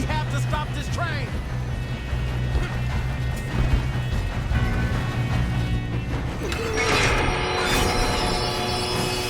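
A train rolls along the rails in Red Dead Redemption 2, a steady low rumble with wheel squeal and metallic clatter underneath, joined by loud crashing and shouting voices.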